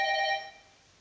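Electronic phone ringtone during a French-language commentary on Ivorian affairs, one loud harmonic burst that cuts off and trails into faint room noise.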